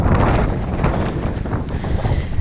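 Steady wind blowing by the sea in light drizzle, buffeting the microphone with a loud, continuous broadband roar and gusty fluctuations and no pauses, with nobody talking.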